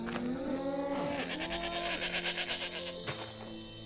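Sheep bleats from the Minecraft video game, a few wavering calls heard up close over a steady game background, with no talking.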